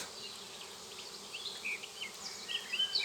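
A dense, continuous hum of many honeybees buzzing close by at an apiary hive, with individual insects droning louder as they pass near.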